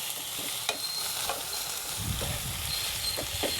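Food frying in a pan, a constant close hiss and sizzle with a few sharp crackles and light scraping of stirring, no talking.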